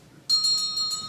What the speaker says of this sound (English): row toward a lighthouse and a ringing bell